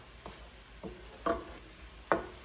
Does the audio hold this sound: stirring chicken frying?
yes